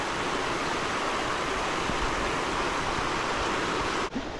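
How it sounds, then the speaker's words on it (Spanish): Floodwater from the overflowing Paz River in Guatemala rushes past in a steady, dense roar, loud and close, holding constant for several seconds before a brief dip at the very end. "Miren la cantidad de agua que se ha desbordado del río Paz."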